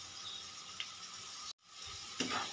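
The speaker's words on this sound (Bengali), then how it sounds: "দিয়ে একটু ভালো করে নেড়ে নেব।" Ground chili, cumin, coriander and garam masala sizzle steadily in a pan for an okra-and-shrimp curry, with a couple of spoon scrapes as they're stirred and a brief cut to silence partway through.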